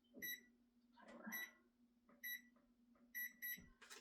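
A kitchen oven timer being set while baking cookies: short high electronic beeps in small clusters, fairly faint and close, with light handling noise and a steady low hum underneath.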